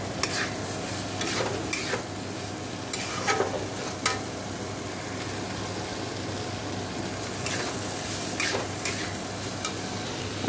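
Kabuli chickpeas cooking in a pan give a steady close sizzle and frying hiss, with occasional stirring scrapes and clinks over a continuous low hum, and no talking.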